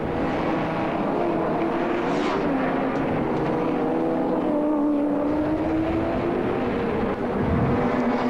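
Touring car engines roar through the 1992 Nissan Mobil 500 street race in Wellington, a continuous loud drone with pitch swells as cars pass. The sound shifts and overlaps but never drops away.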